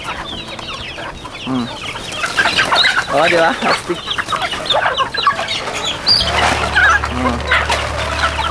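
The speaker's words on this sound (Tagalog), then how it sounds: "Ang dami niyang manok dito, mga ano lang na manok." Chickens cluck and squawk around a provincial farmyard in the Philippines, several birds close by, with people talking casually in Filipino over them.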